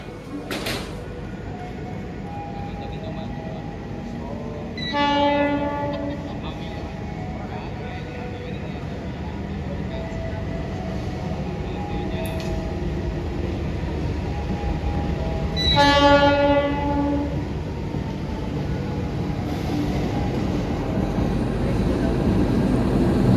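KA Parahyangan passes on the opposite track during a train crossing, with a steady rolling rumble of wheels and two loud blasts of its horn, one early and one later, heard from inside a moving economy train.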